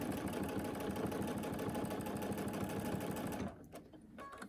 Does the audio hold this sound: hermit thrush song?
no